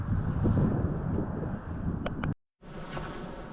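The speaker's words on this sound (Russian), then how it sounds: "Сегодня очень ветрено, тепло, но ветрено." Strong wind in a Crimean forest gully buffets the microphone with a loud, rough rumble and rushing hiss, then cuts out briefly before returning weaker.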